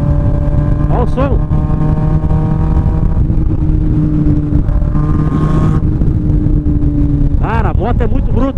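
A Honda CB 1000R motorcycle with a bare, unmuffled exhaust pipe idles loudly and up close with a deep, throbbing rumble that swells briefly midway. Someone speaks over it in short bursts.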